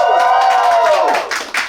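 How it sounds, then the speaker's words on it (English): A classroom group practices cheering wildly: a loud shared whoop slides downward, then scattered clapping and cheering follow close by. "Cheer wildly on 3."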